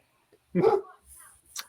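A pet dog gives a single muffled bark from indoors, short and fairly faint, followed by a softer trailing sound and a brief high noise.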